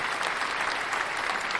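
Canned applause from a livestream soundboard button, a steady wash of dense clapping and light crowd noise lasting a couple of seconds at even loudness.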